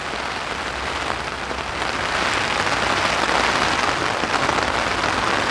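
Heavy rain drums on an umbrella in a steady, dense hiss during days of downpour in Korea, loud and close, swelling slightly after the first second or two.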